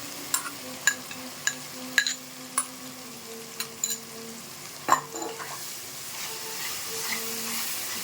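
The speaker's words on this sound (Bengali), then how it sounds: "এটাকে ভালো করে কষিয়ে নেব।" Spice paste with soft tomato and turmeric being stirred and fried in a pan for a papaya, potato and soybean curry, a steady sizzle broken by sharp clicks of the spoon scraping the pan, close and moderately quiet with no voices.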